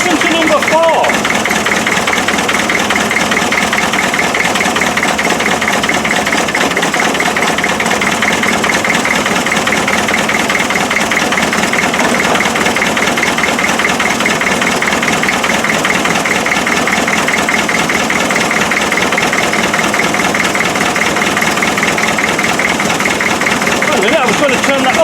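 A Land Rover Defender 2.5 NA diesel engine idles roughly with a shake, a steady loud clattering drone running without a break for the whole stretch.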